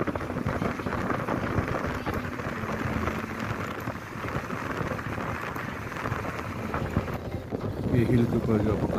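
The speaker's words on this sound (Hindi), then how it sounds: "अब यहाँ पे तेज़ बूंदाबांदी भी शुरू हो गई थी" Steady rain and heavy drizzle falling outdoors during a road trip through Bahria Town Karachi. The hiss is continuous and moderate in level under a voice, which speaks throughout.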